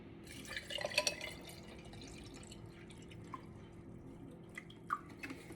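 Water trickles and drips faintly into a glass while a mojito is made in a home kitchen, a soft, close liquid sound that fades into a quiet background.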